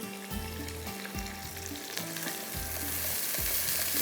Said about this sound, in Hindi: इसको अभी हमने फ्राई करना है अच्छी तरह से, हरी मिर्चें और प्याज, कड़ी पत्ते।